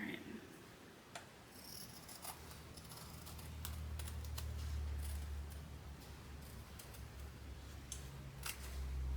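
Fabric for a stained glass quilt wall hanging is cut with scissors, faint close snips and clicks scattered irregularly over a low background hum.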